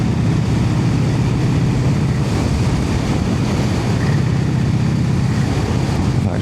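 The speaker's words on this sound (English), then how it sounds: "It's chugging along a bit briskly because we're coming into a 30." A Brough Superior motorcycle chugs along in top gear at low revs, a loud, steady engine drone mixed with heavy wind rush throughout, with no talk.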